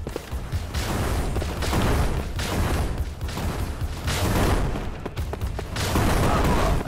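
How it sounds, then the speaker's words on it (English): Explosions in the video game Crystal Defense rumble in repeated waves, a thick noisy barrage rising and falling every second or so, moderately loud with no talk over it. "Still explosions happening behind me"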